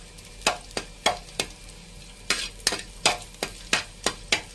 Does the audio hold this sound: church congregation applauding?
no